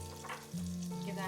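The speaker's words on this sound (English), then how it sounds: "Now that the butter is melting, we will go ahead and add our brown sugar." Butter melts and sizzles with brown sugar in a hot pan, a steady close frying hiss that grows louder and fuller partway through.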